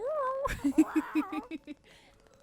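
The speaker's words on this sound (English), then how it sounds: "I hear the most raspy meow in the world." Avalon the cat gives a short, raspy meow up close, followed by a quick run of soft rhythmic chirps; a human voice is also heard briefly.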